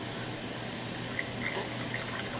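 Cool water pours steadily into a container for a science experiment, a continuous close splashing wash with faint drips and bubbling tones throughout.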